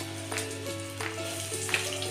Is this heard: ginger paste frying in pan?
yes